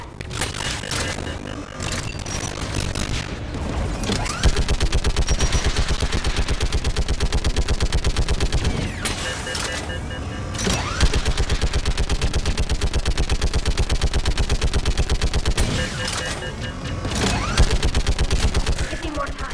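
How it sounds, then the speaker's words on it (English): A big Geth turret in Mass Effect 3 fires long, loud sustained bursts of rapid automatic shots, broken by short pauses, with voices speaking in the gaps. "You should be able to operate a big Geth turret yourself"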